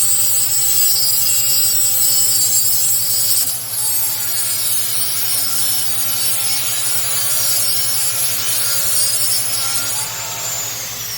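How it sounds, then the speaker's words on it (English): Grinder cutting through the hardened tool-steel spring of a Husky 3/8-inch stubby flex-head ratchet clamped in a small vise, a loud, steady, continuous high-pitched grinding rasp with a slight dip partway through and no talk. "I'm cutting right through a section of the spring"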